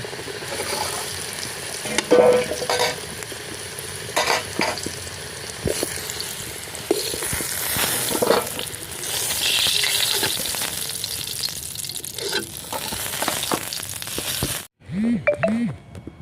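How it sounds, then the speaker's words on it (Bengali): Potatoes fry in hot oil with a steady loud sizzle, broken now and then by stirring scrapes and clinks, and the sizzle cuts off abruptly near the end. "আলু ভাজা হয়ে গেছে, এবার আলু ভাজা নামিয়ে নেব।"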